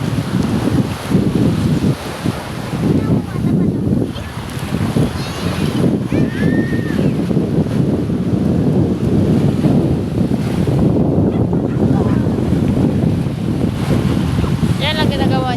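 Waves wash and break continuously with heavy wind buffeting the microphone, and voices talk intermittently over the rushing surf.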